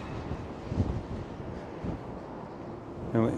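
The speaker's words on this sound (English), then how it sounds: "Very, very windy." Strong gusts from Storm Isha roar steadily across the microphone while walking outdoors, a dense buffeting rush with brief louder surges and no speech.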